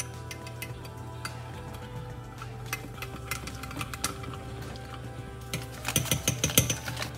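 A spoon stirs yeast and sugar in warm water in a measuring cup, making light clinking taps against the cup that grow busier and louder toward the end over a low steady hum.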